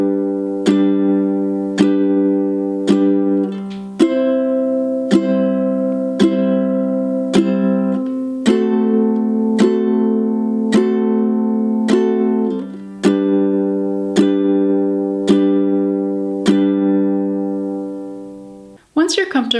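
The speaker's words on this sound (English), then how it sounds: "Here's how it sounds to move through this progression, doing 4 down strums on each chord." Steady down strums on a ukulele, four per chord, moving through a simple chord progression at an even tempo; bright, close and clear with no talking.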